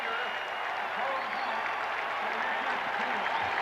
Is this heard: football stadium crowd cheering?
yes